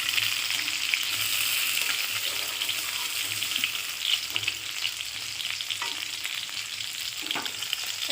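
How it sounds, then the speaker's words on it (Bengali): Pieces of halua fish frying in hot oil in a pan, a steady dense sizzle with occasional crackles and soft stirring scrapes, close and continuous with no talking. "তো দেখো মাছগুলো এরকম করে ভেজে নিতে হবে।"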